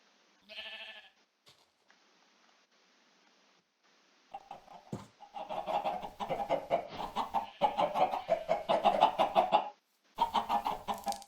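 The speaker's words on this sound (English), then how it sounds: "Here come the chickens." Clucking of chickens in the Minecraft video game, a few short calls early on, then a louder, dense run of overlapping clucks and squawks that stops briefly and resumes.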